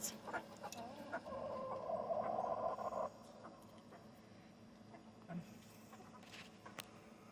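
Buff Silkie chickens in their coop, soft clucking and murmuring close by for the first few seconds, then fainter scattered clucks against quiet background.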